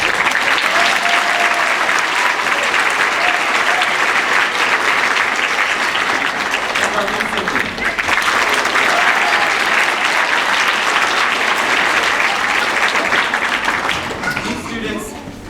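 Sustained loud applause from a school audience at a middle school winter concert, thanking student volunteers, steady dense clapping filling the hall throughout and tapering slightly at the very end, with some voices mixed in.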